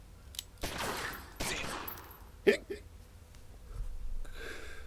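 Gunshots in the gangster video game Omerta: City of Gangsters, a handful of sharp close cracks spread unevenly over a few seconds amid game noise and faint talk.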